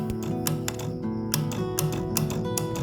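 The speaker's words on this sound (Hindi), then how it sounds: "इस पे रखने पर दोस्तों खट खट की आवाज़ आएगी।" A window air conditioner voltage relay ticks as tester probes touch its pins, giving a series of light, irregular clicks close by over a steady background hum.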